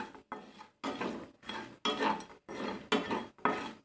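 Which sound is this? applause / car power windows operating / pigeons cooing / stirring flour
stirring flour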